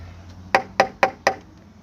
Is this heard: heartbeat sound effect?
no